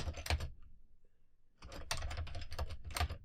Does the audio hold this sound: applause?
no